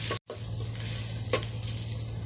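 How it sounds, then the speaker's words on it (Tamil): Shallots frying in sesame oil are stirred in a pan, giving a steady close sizzle with scraping stir strokes and a brief pause near the start, without any talk. "நல்லா செவக்க இது மாதிரி கிண்டிக்கலாம்."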